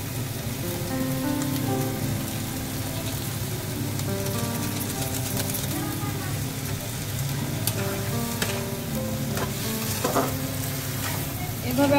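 Noodles and peas with Maggi masala frying in a pan, a steady soft sizzle with occasional stirring scrapes and clinks, close and moderately quiet, with no voices.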